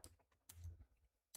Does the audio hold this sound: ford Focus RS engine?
no